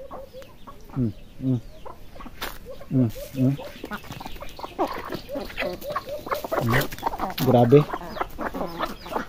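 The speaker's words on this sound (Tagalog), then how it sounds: "Ito pala yung pabo natin mga kalodi oh." Turkey calls mixed with clucking poultry in a free-ranging backyard flock, several close, throaty bursts spread through the clip alongside chickens, with a person speaking briefly.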